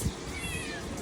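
A voice imitates a cat's meow, a drawn-out wavering cry over faint background chatter at a night market festival.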